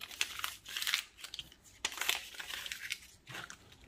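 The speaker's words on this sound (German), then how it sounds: "So, ihr zerknittelt die Papier." Sheets of paper crumpled by hand, a close crackling crinkle in several bursts with short pauses between them, no talking.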